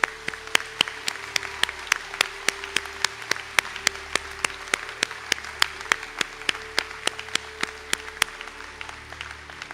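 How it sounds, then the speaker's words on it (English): Audience at a Sligo conferring ceremony gives a sustained round of applause for the graduating candidates, with steady, even clapping throughout and several sharp individual claps standing out. "ask if you could join me for a round of applause for all the candidates called to swear."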